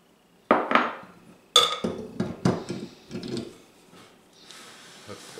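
Two large room-temperature eggs cracked into a bowl of cookie dough for coffee-and-spice drop cookies: sharp clicks of shell on the bowl rim, then soft thuds and clatter as the eggs drop in, up close and without talk.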